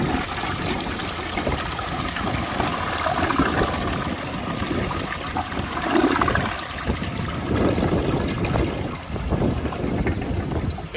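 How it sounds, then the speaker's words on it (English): A 2002 Vitromex Marathon toilet flushes with a loud, sustained roar of rushing water that holds steady for the whole stretch, close to the bowl, with no talking. "It almost did a triple flush there,"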